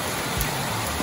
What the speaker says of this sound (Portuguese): Bom dia pra quem acordou com essas zoeirinhas de chuva maravilhosa.